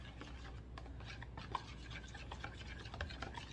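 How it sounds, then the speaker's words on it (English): A spoon stirs a lumpy cream of mushroom mixture for baked pork chops, making a soft, continuous scraping and rubbing with faint clinks against the bowl, close and fairly quiet. "make sure you stir it up really good, because you want all that mixture, get all the little lumps out of the cream of mushroom"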